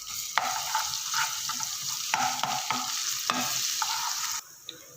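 Ginger garlic paste frying with onions in a hot pan as a spoon stirs it: a steady, close sizzle broken by several scraping stir strokes, with no talking, fading near the end.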